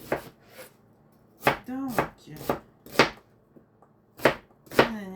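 Onions chopped by hand with a knife on a cutting board, a handful of sharp, close, separate cuts at an uneven pace, with someone speaking French softly between them.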